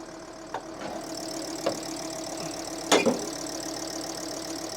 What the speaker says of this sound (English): I don't really want to turn the engine off in case we can't restart it.